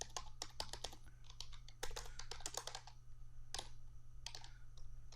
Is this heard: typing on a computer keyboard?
yes